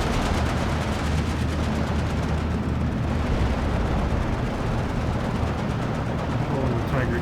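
A 4v4 battle in the World War II strategy game Steel Division 2 roars on without a break: dense, overlapping gunfire and rumbling explosions form a thick, loud wall of combat noise.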